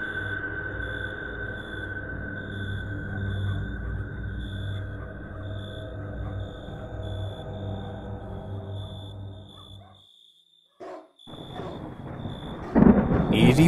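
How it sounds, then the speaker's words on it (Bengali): Thunder rolls over a cartoon storm with dark clouds and lightning, heard as a long low rumble under a repeating high electronic beep. The sound drops to near silence, then a louder crash follows. "এরই মধ্যে আকাশ কালো করে এসেছে, মেঘ ডাকছে, বিদ্যুৎ চমকাচ্ছে।"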